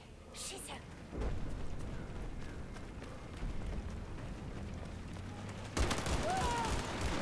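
Battlefield 4 combat in enemy territory, with a sustained rumble of gunfire and explosive blasts, a sudden loud burst near the end, and someone talking over the noise.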